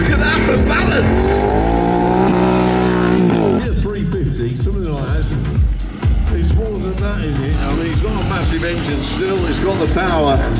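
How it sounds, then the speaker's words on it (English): A motorcycle does a rear-wheel burnout at an event, the engine revving hard and roaring continuously with loud tire squeal. Close and very loud throughout, with crowd and commentary voices mixed in. "Look, the blue smoke still coming off the rear wheel, Steve, still keeping the burnout going"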